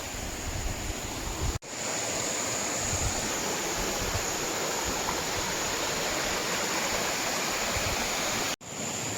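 A shallow river flows past a hillside village in Uttarakhand, a steady, close wash of rushing water that fills the whole scene, with no voices.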